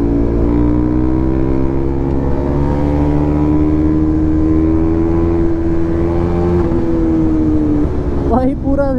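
A KTM Duke 250 motorcycle engine drones loudly and steadily with a rising and falling pitch during a city drag race against an NS 200, ending in a brief rev burst.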